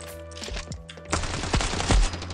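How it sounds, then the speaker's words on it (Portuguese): Rapid bursts of automatic gunfire from a mobile first-person shooter match in Standoff 2, dense and continuous, swelling louder in the second half with sharp overlapping shots and no speech. "o cara nem para pra trocar tiro"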